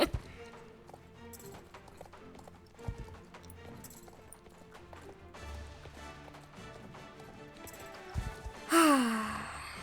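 A horse gallops in the video game Star Stable Online, a steady rhythmic clip-clop of hooves under game music, ending with a loud burst of sound near the close.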